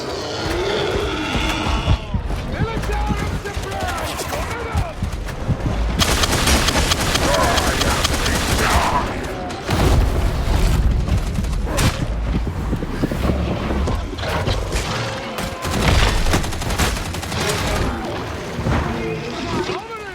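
Gunfire and heavy booms erupt in bursts while players fight a plague ogryn in Warhammer 40,000: Darktide, loud and chaotic, with growling creature noises and voices shouting over the shooting.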